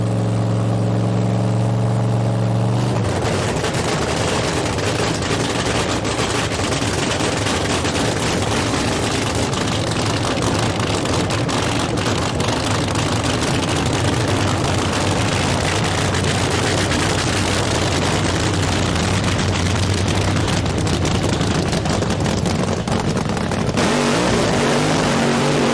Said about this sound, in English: Forrest first out of the blink box and really smoking the tires on that Oldsmobile